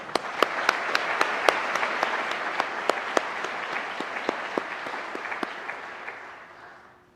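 Audience at a police recruit class graduation ceremony applauds an officer, a sustained wash of clapping with sharp individual claps standing out, gradually thinning and fading away at the end.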